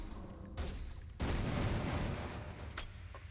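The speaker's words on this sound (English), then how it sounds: "Pretty explosions, though." Loud, dense bursts of explosions and gunfire from a PlayStation (PS1) video game, a sharp blast followed by a heavier sustained roar that slowly fades, with no voices.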